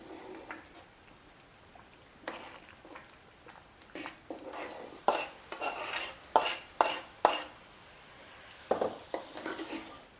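A spoon stirs vegetable upma in a metal pan, giving quiet scraping at first and then a run of louder, sharp metallic scrapes and clinks in irregular bursts, close by.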